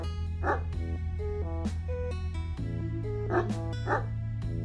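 Video game dogs bark in short repeated bursts, each one sharp, over a continuous tonal game music backing, with no one speaking.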